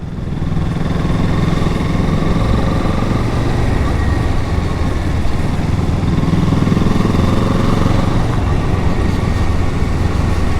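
A 2023 Kawasaki Z 650 motorcycle engine runs steadily and loudly throughout, a constant droning hum with wind rush, as if heard while riding.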